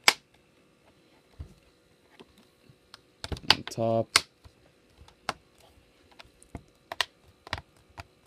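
Sharp plastic clicks and snaps as a Lifeproof Fre case is clipped onto an iPad Mini, scattered single clicks followed by a quick rattling burst of snaps, close and distinct, with a brief spoken phrase.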